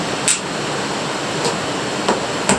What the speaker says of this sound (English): I'm going to hammer it down.